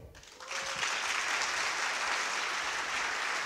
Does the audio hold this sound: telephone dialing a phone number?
no